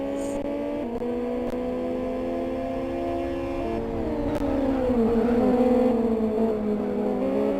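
Mini race cars run nose to tail in a slipstream battle at a Kent autoprix round, with a loud, sustained engine drone of layered tones that swells slightly toward the end.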